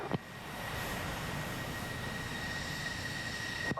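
F-14B Tomcat jet engines idling before takeoff in DCS, a steady, even turbine roar with a faint high whine running throughout, moderately loud and unchanging.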